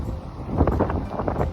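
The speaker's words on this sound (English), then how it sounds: "It's really windy." Strong wind buffets the microphone at a Miami beach, a steady low roar with gusty swells throughout.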